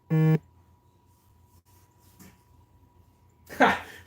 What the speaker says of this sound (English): that's you making the phone vibrate, Tony.